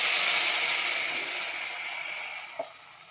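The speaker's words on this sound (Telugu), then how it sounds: "దీంట్లో ఒక రవ్వ నీళ్ళు పోసుకుందాం" Water poured into a hot pan of tempering spices sets off a strong steamy sizzle that gradually fades to a softer hiss, with a small clink near the end.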